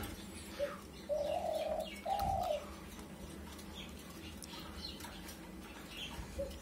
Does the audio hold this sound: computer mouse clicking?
no